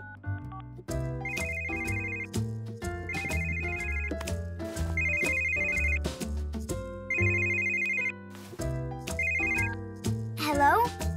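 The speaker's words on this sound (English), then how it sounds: "You can call your phone and we'll hear it ring." A telephone ringtone plays as a bright, repeating electronic melody with steady bursts of ringing, loud and continuous over a musical backing, ending with a short rising sound effect.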